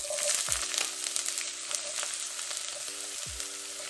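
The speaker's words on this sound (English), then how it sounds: "Yeah, in a pot, I'm just going to go in with a bit of olive oil. I'm going to go in with some onion." Onion frying in olive oil in a pot for smoky party jollof rice, a steady close sizzle with a couple of low thuds and a faint hum in the background.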